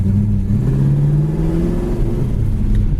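A 1975 Plymouth Duster with a shifter set in first gear gives a loud, close engine rumble that rises and holds in a low, steady rev for a few seconds, with no talk over it.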